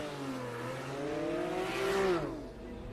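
An F500 kart finishes an autocross run at Daytona with a rising, revving engine whine that swells loudly and then drops away as it passes close by.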